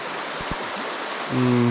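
Snowy Creek in Middle Valley, Victoria, flowing as a steady broadband rush of water close by, with a few low thumps and a brief low tonal hum near the end.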